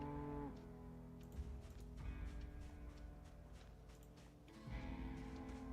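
A cow in a survival video game gives repeated low moos over a steady game background, with longer calls at the start and near the end.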